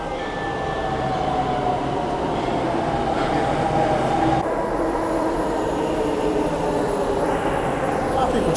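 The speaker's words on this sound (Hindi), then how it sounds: "ये है दिल्ली मेट्रो।" Riding aboard a Delhi Metro train: a loud, steady rumble of rolling wheels and motors fills the carriage, with a brief high tone early on and a faint wheel squeal later, no clear voices on top.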